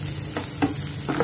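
Ginger-garlic paste frying in a pan for dahi chicken, a steady close sizzle broken by a few short stirring scrapes of a spoon, with no speech.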